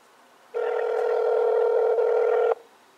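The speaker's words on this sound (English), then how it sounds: "let's go ahead and do a test call here, calling the customer service" An HTC One Remix phone dials a test call on speakerphone, giving one steady tone that lasts about two seconds and then stops abruptly. The tone is loud and clear against quiet.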